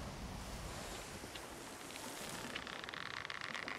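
Rough ocean waves in the pirate game Sea of Thieves wash in a steady, broad roar with wind-like hiss, continuous and fairly loud throughout, with no voices.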